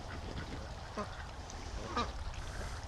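Free-range ducks being herded toward a lake give a few scattered quacks and honks at moderate distance over a low, steady outdoor background.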